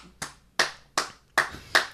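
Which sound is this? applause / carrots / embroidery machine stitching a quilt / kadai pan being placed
applause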